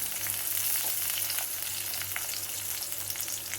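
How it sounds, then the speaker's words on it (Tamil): Small onions (shallots) fry in a pan with pepper and cumin, giving a steady, dense sizzling hiss that stays even throughout, close and moderately loud with no talking. "சின்ன வெங்காயம் போட்டுக்கிறேன்"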